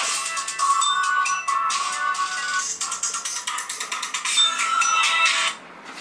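A mobile phone ringing indoors at a home workshop, a bright repeating electronic ringtone that plays loudly and steadily for several seconds before cutting off near the end.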